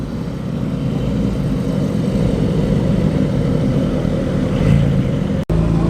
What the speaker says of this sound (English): Lovely burbly Rover V8 engine under that fiberglass body